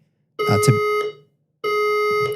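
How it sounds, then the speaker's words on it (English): Fire alarm in a building sounding two loud electronic tones, each lasting just under a second, separated by a short pause; the harsh, tonal blare rings alone. "Alarm. We've got a fire alarm."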